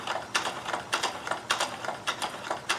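A Baby Lock Companion Intel-a-stitch 6500 sewing machine runs a multi-point zigzag stitch, producing a quiet, regular mechanical clatter of needle strokes in a steady rhythm, close up with no voice over it.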